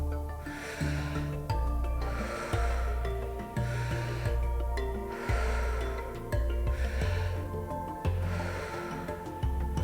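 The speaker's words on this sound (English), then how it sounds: "Breathe in, breathe out." Deep rhythmic breathing in and out during a Wim Hof style breathing exercise, about five full cycles of loud close-miked inhales and exhales, alone with a faint musical background.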